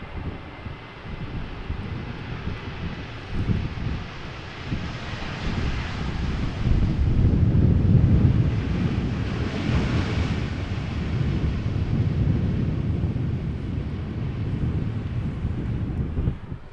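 A westerly crosswind blows across the microphone at Amsterdam Schiphol airport, a steady rough rushing roar that swells and eases over a distant aircraft engine drone, with no voices.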